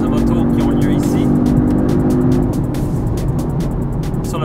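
A 2019 Audi TTS Coupé with a 301-horsepower 2.0-litre four-cylinder turbo engine drives on a closed public-road mountain course. Its engine drones loud and steady with heavy road and wind noise, easing slightly partway through.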